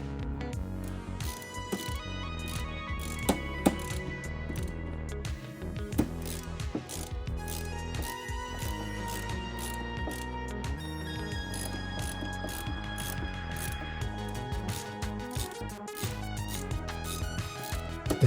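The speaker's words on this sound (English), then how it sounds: "The satisfying ratcheting screwdrivers." Ratcheting screwdrivers clicking as screws are driven into a PC case during a build, a steady run of fast, close mechanical ticks and clatter with occasional louder knocks, no talking.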